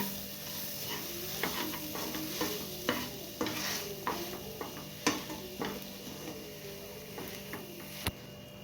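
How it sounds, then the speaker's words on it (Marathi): Mashed potato and coriander being stirred in a pan for vada pav filling, a soft steady frying hiss under repeated close spatula scrapes and light clinks against the pan, with no talking. "हा स्मॅश केलेला बटाटा आपण याच्यामध्ये टाकून घ्यायचा आहे थोडी कोथिंबीर टाकून घेऊ आणि मिक्स करून घेऊ"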